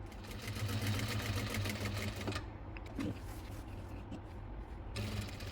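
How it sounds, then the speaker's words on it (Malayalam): A sewing machine stitches a star neck design on fabric, a low steady mechanical whirr at a quiet level with a few brief pauses and no voice. "ഞാൻ ഈ തയ്ക്കുന്നത് പോലെ ഈ സൈഡും ചെയ്തെടുക്കുക."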